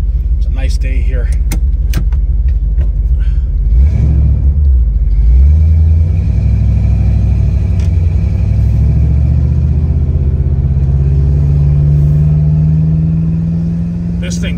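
A 1989 Ford Mustang GT engine rumbles loudly from inside the cabin, revving up as the car accelerates and then holding a steady droning pull.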